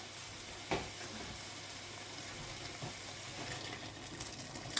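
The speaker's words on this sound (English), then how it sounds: "Now I'm going to add the water." Water goes into a pot of leek soup thickened with plain flour, making a soft, continuous hiss and gentle splashing under a faint sizzle, fairly quiet and close, with a few small knocks.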